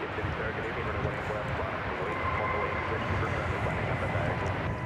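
An airliner bound for Sao Paulo at DFW Airport powers up for takeoff, a steady broadband jet roar filling the air at moderate distance without letup.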